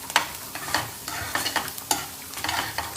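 Onion frying and being stirred in a pan with red chutney, the steady sizzle punctuated by regular scraping stirs roughly every half second, close and moderately loud with no talking.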